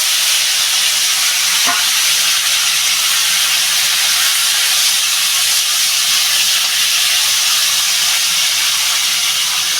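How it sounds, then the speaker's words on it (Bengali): Cucumber cooking in hot oil tempered with radhuni spice, a loud, steady, close sizzling hiss running unbroken throughout with no talk. "আমি এবার শসাটা ঢেলে দেবো"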